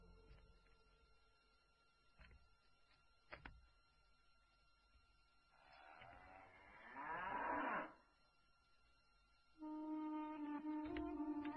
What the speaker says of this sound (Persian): این آخرین گاومون است.